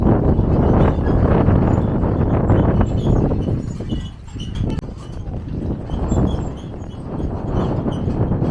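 Strong evening wind buffets the microphone in a loud, continuous rumbling roar with gusty surges and a brief lull midway, outdoors by a pool overlooking a view near Saranda, Albania.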